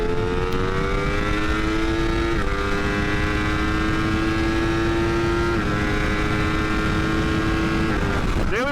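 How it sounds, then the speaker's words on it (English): A motorcycle with over 200 horsepower cruises steadily on a commute, its engine holding a continuous drone with a slight pitch drop partway through and a brief shift near the end, loud and close with no talk. "The bike is finally starting to warm up"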